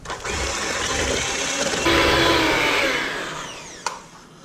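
An electric mixer creaming butter with white and brown sugar for oatmeal raisin cookies, a continuous loud whirring drone that rises in pitch, then slowly fades, ending with a brief clack.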